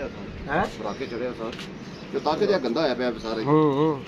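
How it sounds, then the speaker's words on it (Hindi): Soft, rounded coos from a female pigeon repeat in short phrases, close by, with a voice speaking in between. "ये भी उड़ी उड़ाई कबूतरी है"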